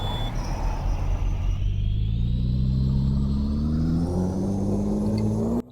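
Peterbilt 389 truck in Euro Truck Simulator 2 with a chip-tuned 840 horsepower Caterpillar C15 engine, a deep close rumble that climbs steadily in pitch as it revs and accelerates, then cuts off sharply at the end.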